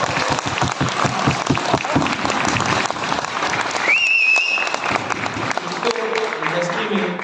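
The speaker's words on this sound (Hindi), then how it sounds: "तो तालियों से स्वागत कर दें इस पर आपकी तालियां।" Audience applause at a talk on crypto exchanges, steady clapping throughout, with a sharp rising whistle or tone briefly cutting in midway and a voice speaking toward the end.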